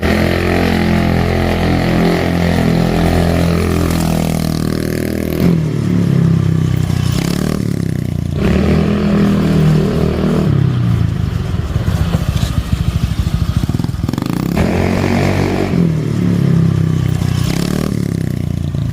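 Project Bitoy, a custom-built project scooter, runs through its test drive, a steady, loud engine drone with rising and falling revs and some clattering, continuous and close for the whole stretch.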